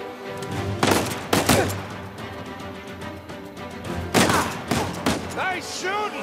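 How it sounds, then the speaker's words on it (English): Gunfire in the video game Uncharted 4 comes in bursts of sharp, loud shots over a busy game soundscape, clustered early and again later, with brief voices between the volleys. "Nice shooting!"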